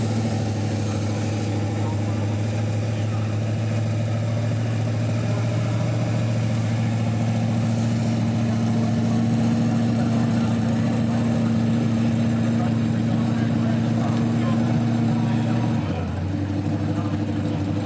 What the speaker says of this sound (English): The Ford Falcon and the Chevy Camaro.